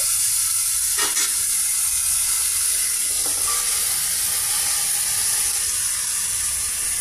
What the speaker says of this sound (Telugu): పచ్చిమిర్చి, పెద్దల్లిపాయలు అన్నీ ఫ్రై అవుతున్నాయండి